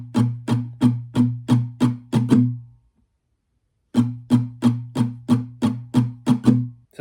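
Acoustic guitar strumming pattern 3: a run of even down strums capped by a quick down-up, played twice with a short silent pause between the two passes, close and clear with no talking.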